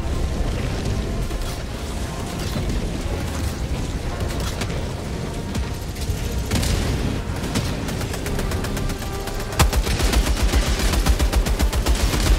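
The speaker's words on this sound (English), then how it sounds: "Calling in orbital. Getting a rail cannon strike out there." In the shooter Helldivers 2, an orbital rail cannon strike hits amid constant close gunfire and mechanical clatter, and a sudden heavy blast near the end gives way to a rapid, loud burst of firing.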